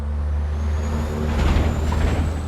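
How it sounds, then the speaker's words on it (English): A truck passes close by with a constant low engine rumble, and a hiss of air brakes cuts through partway along; no one speaks. "That was a truck."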